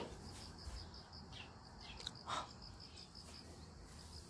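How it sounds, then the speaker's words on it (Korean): Faint, high bird chirps repeat steadily over a quiet outdoor background, with a brief soft rustle partway through. "새소리 들리시나요?"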